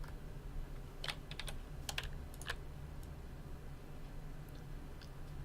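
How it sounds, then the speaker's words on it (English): Quick, light taps on a computer keyboard come in a few short bursts, fairly close but soft, over a steady low hum with no talking. "I'm very bad at typing it obviously here"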